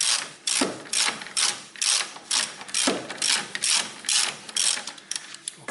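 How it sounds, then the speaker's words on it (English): A hand ratchet works on the upper bolt of a car's rear spring, giving loud, close, rapid clicking strokes in a steady back-and-forth rhythm with brief gaps between swings. "here I am opening this upper bolt"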